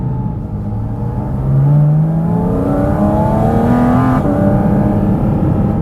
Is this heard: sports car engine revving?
yes